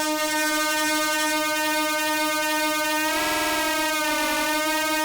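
Intellijel Shapeshifter synthesizer producing a sustained buzzy pulse tone, rich in harmonics, with two slightly detuned oscillators beating; a sweeping phasing shimmer passes through the middle, steady and loud with no voice.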